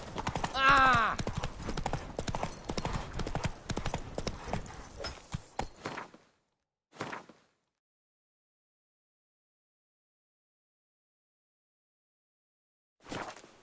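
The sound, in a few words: horse galloping, Roach in video game Witcher 3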